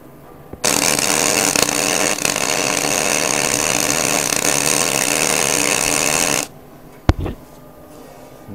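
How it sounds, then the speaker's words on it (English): MIG welder running solid core wire with no shielding gas: a loud, steady, harsh crackling buzz held for about six seconds, then cutting off abruptly, followed by a single sharp click. "So this is what it's like welding with solid core wire without the gas."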